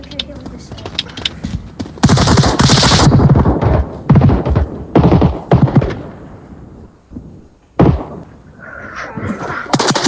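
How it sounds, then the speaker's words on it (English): Weapon fire at a shooting range in the VR game Onward, with sharp bursts and cracks scattered across the stretch and a dense volley early on, heard alongside people talking. "Stop firing my weapon."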